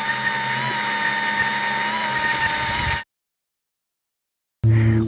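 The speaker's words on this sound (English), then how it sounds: "I just drilled through both layers of the steel" A power drill bores through layered steel on a Mustang's front apron, a loud continuous high whine for about three seconds, then silence before the drill briefly starts again.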